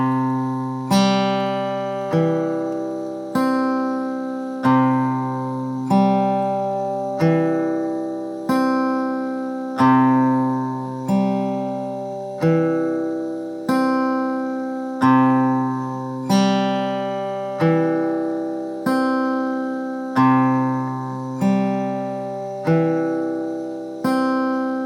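Acoustic guitar played in a simple Travis picking pattern, thumb and index finger alternating bass and treble strings 5, 3, 4, 2, with steady, evenly spaced plucked notes ringing clearly and alone at a relaxed tempo.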